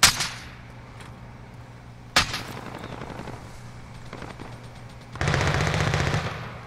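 Nail-gun fire in Call of Duty: Modern Warfare, heard as a sharp burst of rapid shots followed by a longer, louder stretch of sustained automatic fire with echoing tails over a low background hum.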